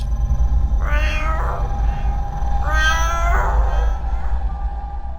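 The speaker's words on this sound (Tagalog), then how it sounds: "Isang huni ng isang pusa ang narinig ko, Miss Terry." A cat meows twice, drawn-out and wavering, fairly close over a steady low background hum.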